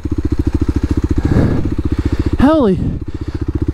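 A Kawasaki KLX300 dual sport motorcycle labors uphill, its single-cylinder engine pulsing in a steady, close, loud thump while a rider talks over it and a high, swooping whistle-like tone cuts in briefly midway.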